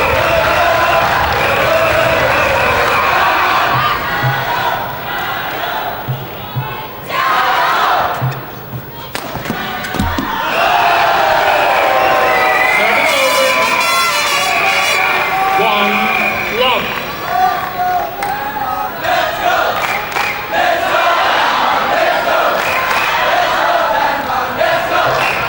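Loud crowd cheering and shouting in a large badminton arena during a men's doubles match, with national junior squads supporting, sustained throughout with bursts and a brief dip, commentators talking over it.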